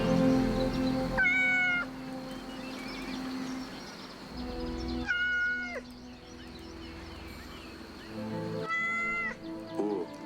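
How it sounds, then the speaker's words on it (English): Cat in the video game Yes, Your Grace gives three separate meows as it is petted, each short and clear over a low, steady game music bed, spaced a few seconds apart. "We can go over here and pet the cat 3 times."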